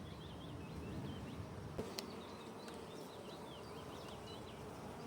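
A honeybee swarm near a beehive gives a steady, dense insect buzz that holds for the whole stretch at moderate level, with a few faint bird chirps above it and no talking.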